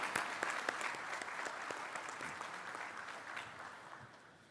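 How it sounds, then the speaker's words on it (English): Audience applause at the Land Forces Pacific (LANPAC) military gathering, sustained clapping from a large crowd that holds fairly steady over several seconds before gradually thinning. "Let's give him a round of applause along with General Brunson."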